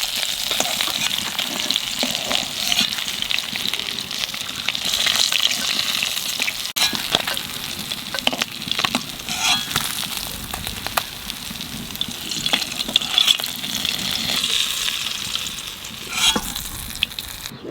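Fish frying in hot oil in a home kitchen, a continuous close sizzle and crackle with occasional spatula clinks and stirring sounds, no talking over it.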